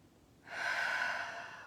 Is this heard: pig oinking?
no